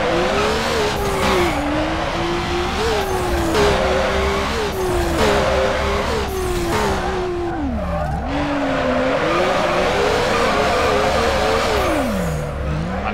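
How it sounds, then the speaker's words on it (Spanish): Mazda RX7 drifting in Need for Speed Underground 2, with a continuous engine drone and a wavering tire squeal that rises and falls through long slides, loud and steady throughout. "venimos con un coche de drift a la parte de derrape"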